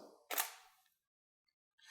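A DSLR camera fires a single shot at 1/250 shutter speed, a crisp, close mechanical clack of the shutter and mirror, followed by near silence and a faint start of another sound at the end.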